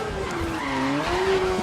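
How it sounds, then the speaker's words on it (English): F1000 race car tires skidding and squealing in the Grid racing video game, a sustained wavering screech over a steady engine drone, continuous and fairly loud throughout. "The car is just, you know, scratching the floor, the tires"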